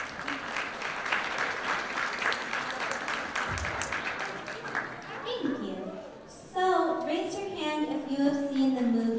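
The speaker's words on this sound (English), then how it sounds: "Can we please give a round of applause for our snack team?" Warm round of applause from a room of people for a snack team at a session, steady clapping that fades into voices and talk, with a voice audible near the end.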